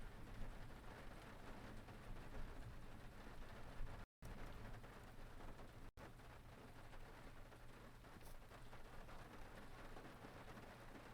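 Soft, steady rain falls during a road trip between Mojave and Death Valley, a faint, continuous patter that is broken only by one brief dropout.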